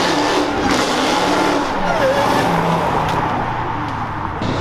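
Engines of a Lamborghini convoy roar continuously as the cars accelerate away from an exit, loud and sustained with rising engine tones over the whole stretch.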